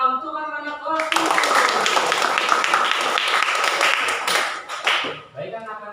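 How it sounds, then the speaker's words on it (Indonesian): A class of seventh-grade children claps together in a classroom, a dense burst of applause lasting several seconds, with speech heard before and after the clapping. "Beri aplaus tepuk tangan untuk anak-anak kelas 7."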